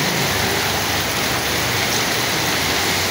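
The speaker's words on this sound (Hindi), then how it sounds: "बारिश भी अचानक होगी।" Steady rain pours onto a market street, a loud continuous hiss of drops on hard surfaces with no break and no voices.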